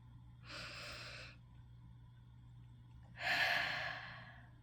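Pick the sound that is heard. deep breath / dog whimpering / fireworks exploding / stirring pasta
deep breath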